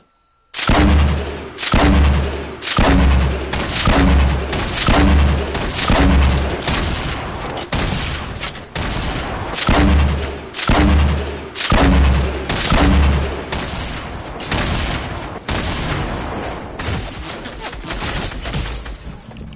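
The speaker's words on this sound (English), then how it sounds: "Boy, a grenade launcher, are you kidding me?" Grenade launcher explosions in a video game come as a long rapid series of heavy, booming blasts in a steady rhythm, loud and close, filling the whole stretch.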